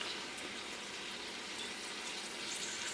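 Shrimp fry in a pan with a steady, dense sizzle that holds evenly throughout, close and continuous with no voices.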